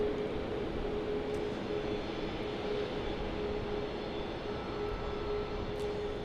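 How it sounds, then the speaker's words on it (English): A Southwest jet airliner taking off on the runway at Dallas Love Field, heard as a steady, broad engine roar that holds fairly even throughout, distant and continuous with no talk over it. "looks like we've got 1, 2, 3 Southwest heading to take off on runway 3 or 13 left"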